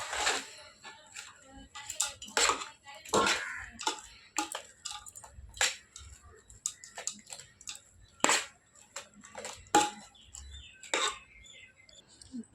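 Spoon scraping and tapping as lemon rice is stirred in a pan, a string of irregular clacks and scrapes, close and moderately loud, with faint bird chirps in the background.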